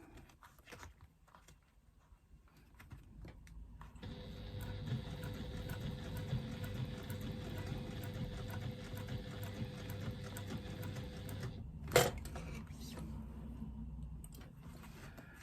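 Sewing machine stitching steadily around a zipper on fabric, a continuous close mechanical whir running for about seven seconds, with a brief sharp knock near the end.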